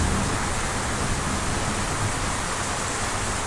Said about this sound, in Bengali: উঠানে পানি জমে গেছে প্রচুর, কারণ বৃষ্টি হইতেছে, অনেকক্ষণ হয়ে গেছে